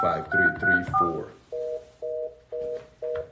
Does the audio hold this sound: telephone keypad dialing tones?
yes